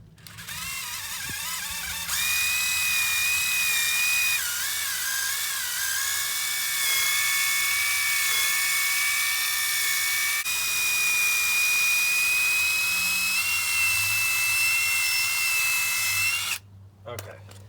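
A drill spins a wire bristle brush against a front brake caliper on a 2015 Buick Encore, a loud sustained whine with pitch wavering as pressure changes, running for many seconds before stopping abruptly.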